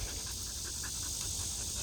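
A kennel dog pants steadily in 100-degree heat, a quick rhythmic run of close, airy breaths repeating evenly with no voices over it.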